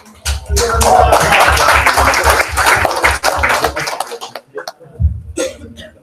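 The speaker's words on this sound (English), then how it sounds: "Let's give them a round of applause to Irfan" At an Islamic startup meetup, the audience bursts into loud, dense applause for Irfan, which swells quickly, holds for several seconds, then thins out and stops, with a few voices and coughs near the end.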